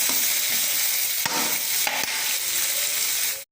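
Ingredients sautéing in a hot pan for an instant sambar, salt already added: a loud, steady hiss of frying, close by, broken by two or three stirring scrapes before stopping abruptly at the end.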